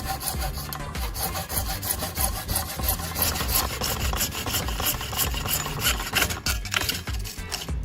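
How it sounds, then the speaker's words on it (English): A hand saw cuts through plastic tubing with steady, continuous back-and-forth rasping strokes, close and fairly loud, with no talking. "Saw slowly and steadily to keep the cut straight and clean."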